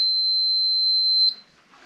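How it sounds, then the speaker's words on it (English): A multimeter on its diode-check setting gives a single steady continuity beep, a clear high-pitched tone lasting just over a second before cutting off, with no talk over it. "I have the meter set on the diode check, which gives you a beep when you have continuity."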